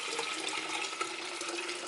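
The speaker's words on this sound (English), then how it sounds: "Then I'm going to add in 4 cups of water." Water pours steadily and continuously into a pitcher while a Puerto Rican fruit pulp drink is being made, with a broad, bright rushing splash that stays close and even throughout, and no talking.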